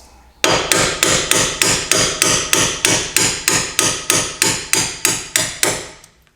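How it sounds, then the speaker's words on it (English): A hammer strikes a MOOG camber bolt in a car's suspension, about sixteen sharp metallic blows in a steady, even rhythm, loud and close with nothing else heard. "Now go ahead and tap out your bolt."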